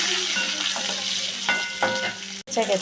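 Cumin, mustard seeds, garlic and green chilies sautéing in hot oil for Maharashtrian pithla, a steady close sizzle with soft stirring scrapes and a brief pause near the end.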